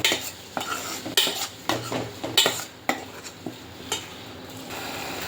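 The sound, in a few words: sautéing with asafoetida and salt in a pan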